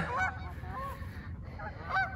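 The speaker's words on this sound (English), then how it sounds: "I think I have disturbed the geese." Geese honking in a few separate bursts, fairly close, over a low rumbling background with no talking.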